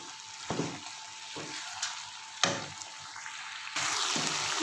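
Chicken, capsicum and cabbage fry in a pan, a close sizzle punctuated by several scraping and clattering stirs, ending in a louder, fuller hiss, with no one talking.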